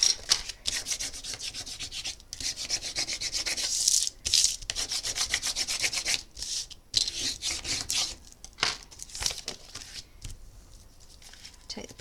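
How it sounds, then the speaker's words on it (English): Steady rubbing and scraping as glued paper is burnished flat for a handmade mini album, close and continuous with brief pauses, no talk over it. "I like to give it a bit of a burnish just to make sure all that glue is stuck"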